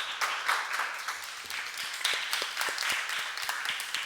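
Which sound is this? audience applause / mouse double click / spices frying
audience applause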